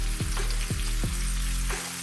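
Oil sizzles loudly and steadily as battered chicken pieces for orange chicken fry in fresh oil, with a few low thuds or clanks from the pan breaking up the constant crackle.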